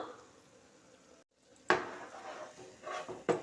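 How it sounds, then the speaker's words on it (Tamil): Spiced pea masala sundal being stirred in a pan: a few scraping, clinking utensil strokes against the metal, quiet and close, with soft sizzling in between. "இப்போ மறுபடியும் கிளறி கொடுத்துக்குவோம்"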